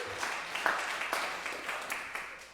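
Congregation applauding during a Sunday service, a fairly quiet, distant patter of clapping with a few sharper individual claps standing out.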